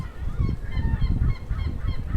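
Geese honk over and over outdoors, loud and close, in a steady rhythmic series of calls with no talking.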